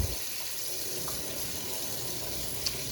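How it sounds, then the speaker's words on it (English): A kitchen sink faucet in a rental house runs steadily, a constant hiss of water splashing into the basin with a couple of faint clinks, and no one speaking. "Water does run, just make sure it gets hot really quick."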